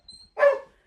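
A single short, sharp bark from a dog indoors, close and fairly loud after a brief quiet pause.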